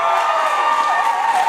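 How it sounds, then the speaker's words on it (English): Wedding reception crowd giving newlyweds Randy and Nikita a big round of applause and cheering, a dense, steady wash of clapping and shouts that holds at full loudness throughout. "big round of applause for our newlyweds"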